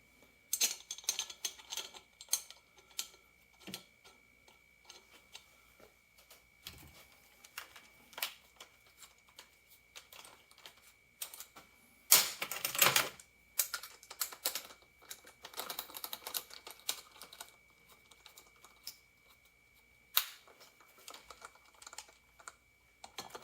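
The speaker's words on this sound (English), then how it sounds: "I just tightened the nut on real quick to help seat the flywheel" Tightening the flywheel nut on a 212 Predator small engine gives a dense, rapid series of clicking mechanical ticks with one louder whirring burst midway, close and steady, with no voices.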